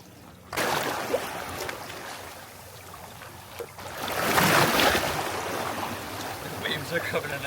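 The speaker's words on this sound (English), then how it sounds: "The waves are coming in" Sea waves rolling onto a rocky shore in the early morning, a loud, close rush of surf that swells into a broad crash midway before easing back, with no talk over it.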